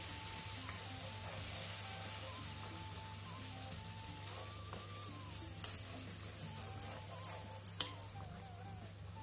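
Steady sizzling and light bubbling from vinegar simmering in a pan on the stove, with soft clinks of stirring toward the end.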